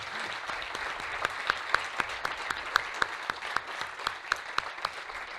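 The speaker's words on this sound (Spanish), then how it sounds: "Me gustaría que les dierais un aplauso a los educadores" An audience at a pediatric diabetes conference applauds the educators. Steady moderate clapping with sharp individual claps standing out, continuing evenly throughout with no speech.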